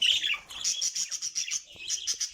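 Budgerigars in a breeding room chirping and warbling close by, a continuous high twittering chatter of rapid repeated tweets with no talking.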